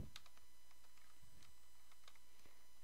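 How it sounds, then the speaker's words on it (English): Soft, quiet keystrokes on a computer keyboard, a scattered handful of light clicks spread across a few seconds with steady faint background hiss, no voices. "and then you just type."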